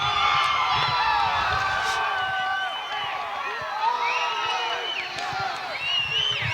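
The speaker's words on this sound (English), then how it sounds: "the Lobo crowd is going nuts on the far sideline" A home crowd at a 2009 high school football game on a far sideline roars after a touchdown, with sustained cheering, whoops and shouts forming a dense, steady wall of noise throughout.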